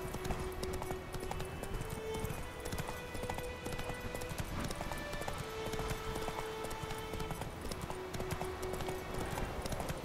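Horse hooves clip-clop steadily on an offroad ride in The Witcher 3, a continuous close rhythm under game music and ambience with an occasional faint whinny.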